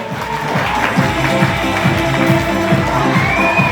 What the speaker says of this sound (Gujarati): તેને જોરદાર તાળીઓથી ગડગડાવી લેજો